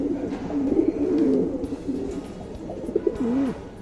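A male Anari-line tournament-flying pigeon coos close by in several rolling, throaty phrases, with pauses between and faint background noise.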